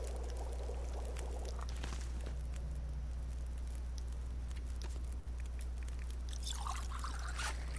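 Water poured to make tea in The Long Dark survival game, a steady continuous pouring trickle with splashy patter, close and fairly loud, running alone for several seconds with a brighter burst near the end.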